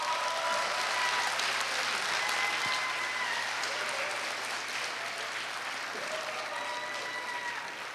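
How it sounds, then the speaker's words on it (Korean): An audience at a Korea University alumni choir festival claps steadily for several seconds as a choir is welcomed to the stage, the applause sustained and fading slightly near the end. "박수로 맞이해 주십시오."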